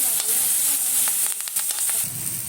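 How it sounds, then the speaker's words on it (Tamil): Fresh curry leaves fry in hot oil for a peanut chutney, giving a close, continuous bright sizzle with a few crackling pops and a faint stirring scrape. "நல்லா ஃப்ரெஷ்ஷாக இருக்கிற கருவேப்பிலை போட்டு நல்லா வதக்கணும்"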